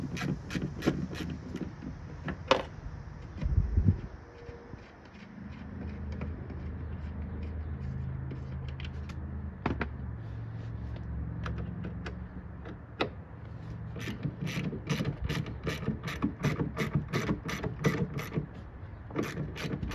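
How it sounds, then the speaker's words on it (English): A socket ratchet clicks in fast, close runs as bolts are removed from a 2011 Chevy Malibu car door, with pauses, clanks and handling noises between bursts and no talking. "I'm gonna take out a bolt off the bottom and the top first."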